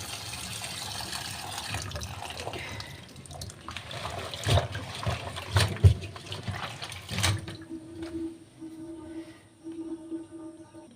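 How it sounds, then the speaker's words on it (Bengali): Raw beef is washed in water, with splashing, sloshing and running tap water close by, then a steadier low hum and trickle toward the end. "আমি ভালো করে ধুয়ে নিয়েছি আবারও ধুচ্ছি যাতে আপনাদের দেখাতে সুবিধা হয়"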